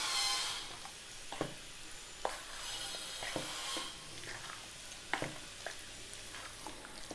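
Wheat flour, jaggery and banana batter being mixed by hand in a bowl, soft wet squelching with several sharper scrapes and knocks at irregular intervals, fairly quiet and without talk.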